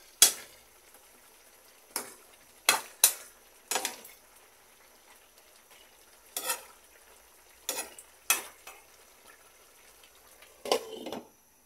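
A spoon stirs squash simmering in coconut milk in a pot, giving about ten separate scraping, clinking strokes at uneven intervals, each crisp and brief against a quiet background.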